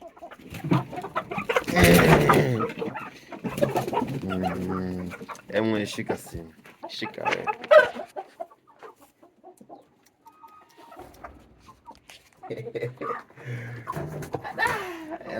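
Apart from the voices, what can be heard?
chickens clucking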